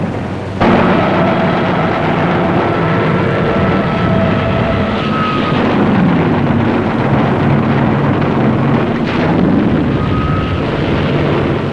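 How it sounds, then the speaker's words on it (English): Heavy engines of land-based warplanes roar steadily and loudly, a sustained droning rumble as the planes pass low and close overhead over the sea, approaching an aircraft carrier. "Hundreds of land-based planes streaked low over the sea at our carrier."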